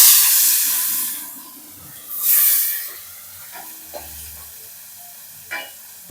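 Pomfret fish frying in hot oil, a loud hiss that fades, then surges briefly before settling into a quieter sizzle with a few sharp pops and clicks nearby.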